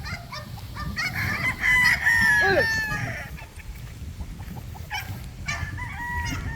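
Breeder roosters on a farm crow loudly nearby, with one long cock-a-doodle-doo rising over a bed of hens clucking and chattering, followed by further fainter crows and clucks.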